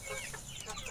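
Backyard chickens cluck softly while feeding on scattered rice. A brief, faint burst of fowl calls plays over a low background hiss.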